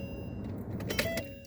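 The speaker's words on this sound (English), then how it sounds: "So I'm gonna turn back on my car" A parked car is switched back on, with a brief mechanical whir and click as the engine and electrics come alive inside the cabin, fairly quiet with no talk.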